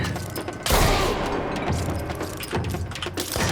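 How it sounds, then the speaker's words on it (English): Gunfire from a friendly character in the video game Control, loud close bursts of rapid shots and booms with mechanical clatter layered over game noise. "that's my friendly guy shooting"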